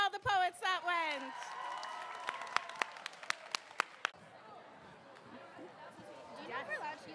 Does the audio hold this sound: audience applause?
yes